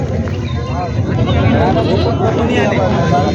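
Osmanabadi goats bleat in wavering calls amid a busy crowd at a goat market in Purna, Parbhani district, Maharashtra, with people talking over the animals throughout.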